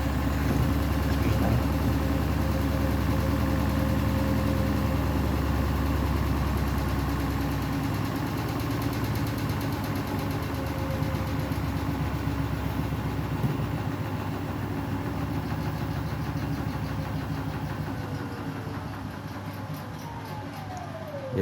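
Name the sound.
Beko WTK104121W washing machine spin cycle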